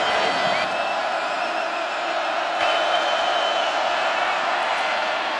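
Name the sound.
partisan crowd cheering at a college football championship game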